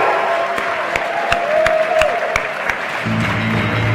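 An audience applauds a finalist at the World Barista Championship, a moderate wash of clapping and crowd noise with a few distinct claps and a short cheer, no speech.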